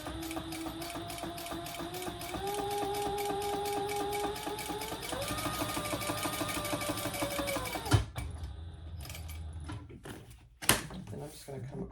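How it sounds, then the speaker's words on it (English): A sewing machine runs a steady, close seam an eighth of an inch from the inner edge of a fabric divided basket, stitching for about eight seconds before stopping with a few handling clunks. "now I'm just going to sew down 1/8 of an inch from this internal edge"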